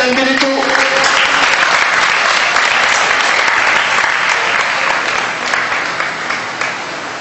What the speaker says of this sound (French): Allez, on applaudit Dan, s'il vous plaît, Dan Beneteau.